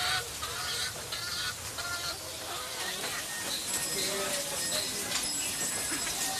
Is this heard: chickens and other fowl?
yes